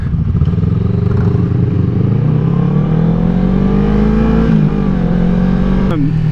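BMW S1000 and Ducati Panigale 899 motorcycles rev loudly and close by, their engine pitch climbing steadily for several seconds, dipping for a moment and then ending in a sharp upward sweep.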